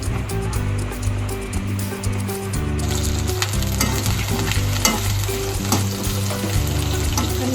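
Potatoes sizzle steadily in hot oil in a pan, being fried for beef biryani, with occasional stirring scrapes and a constant close crackle throughout.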